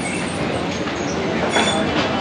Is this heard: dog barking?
no